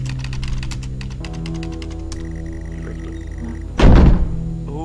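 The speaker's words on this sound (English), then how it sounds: "You unlock the door. The click of the lock hurts to hear." In the horror game Stories Untold, a door lock clicks open and lands as one loud, sharp mechanical thunk near the end, after a run of soft keyboard typing.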